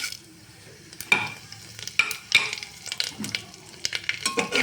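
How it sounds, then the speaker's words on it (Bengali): Cumin seeds, dried chili and bay leaf crackle in hot oil as a tempering: a steady sizzle punctuated by several sharp spoon strikes and scrapes against the pan, close and without voices. "তেলটা গরম হয়ে গেছে, এর মধ্যে আমি ফোড়নে দেবো সাদা জিরে, শুকনো লঙ্কা, তেজপাতা।"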